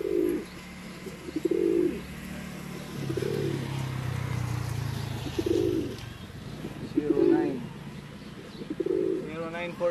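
Pigeons at a loft during training coo in short, repeated low bursts at a steady rhythm, fairly close, with a faint background rumble and occasional chirps.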